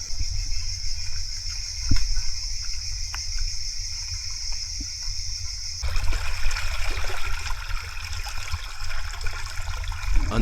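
Creek water trickling and flowing through a jungle stream at night among fallen branches and thick vegetation, a steady close wash with insects chirring and the flow growing louder midway.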